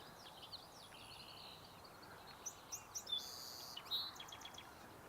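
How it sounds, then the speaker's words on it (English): A song sparrow sings from a spring park in early May, a few short bright phrases rising over steady outdoor background noise, fairly faint and at some distance, with no talking. "Kind of the song sparrow to sing us out."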